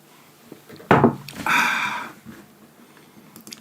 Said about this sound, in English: Sip of water.